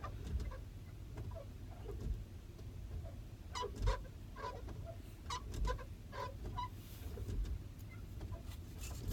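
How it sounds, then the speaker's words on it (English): Steady low rumble of a car interior while driving, with scattered clicks and faint rattles over the engine and road drone. "I'm in the car if you're wondering what the sound in the back is."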